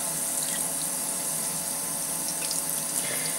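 Water pouring steadily from a tap into a sink as a new makeup brush is wetted and rinsed of conditioner, a close, continuous splashing flow with nobody speaking.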